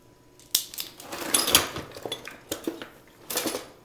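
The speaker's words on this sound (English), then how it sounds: "now we're going to get out our teaspoons." Metal teaspoons being pulled out and handled in a kitchen, a run of clinking and rattling with sharp jingling peaks and short clatters, close and fairly loud with no one speaking.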